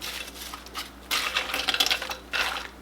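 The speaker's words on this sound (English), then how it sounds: "I'm going to give this a stir" A spoon stirring tortellini alfredo with spinach and sausage in a crockpot makes bright scraping and clinking against the pot in a few bursts, close and moderately loud, with no talking.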